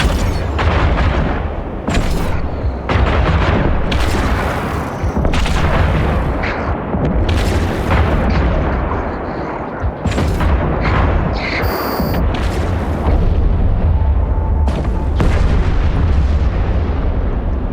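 Repeated booming weapon blasts from spaceships in EVE Online, a loud, dense barrage of heavy thumps and bursts running almost continuously, with brief lulls and a few sharper bright tones mixed in.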